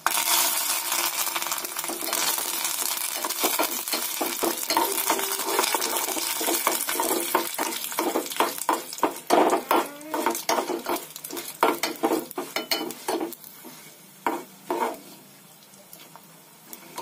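Curry leaves fry in hot tempering oil for a tomato and peanut chutney, giving a steady sizzle at first, then breaking into a run of sharp crackles and spoon stirs against the pan that thin out toward the end.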